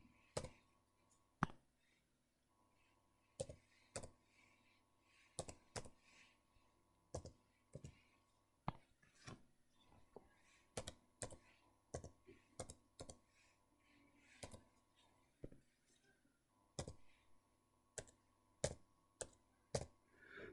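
Keys clicked on a computer keyboard while entering numbers into a matrix calculator, irregular bursts of crisp close taps with short pauses between groups, quiet and without talk.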